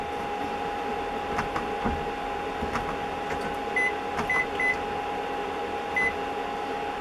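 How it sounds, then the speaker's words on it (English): A kitchen timer is set beside an induction cooktop while eggs cook, giving a few short, clear electronic beeps over a steady appliance hum in a quiet kitchen. "when I do that, I set my timer"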